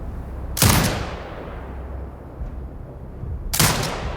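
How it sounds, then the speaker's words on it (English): A turret firing in the video game Sniper Ghost Warrior Contracts 2, two loud heavy blasts about three seconds apart, each with a rolling decaying boom over a low rumble, with no talk. "Exit binocular mode and command the turret to fire."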